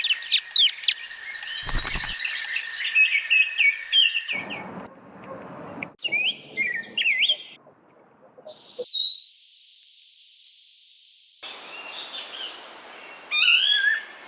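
A mixed flock of birds of several species calls in a stretch of natural habitat, with varied chirps, whistles and trills overlapping in bursts, close and fairly clear, separated by brief quiet gaps.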